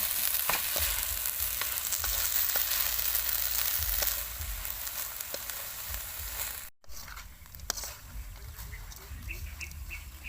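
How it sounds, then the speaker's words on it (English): Tok Mol being stir-fried with other ingredients in a pan: a steady sizzle and frying hiss runs throughout, with scraping stir strokes and occasional clicks, loud at first and softer later. "Add it and mix our Tok Mol with ingredients to be well"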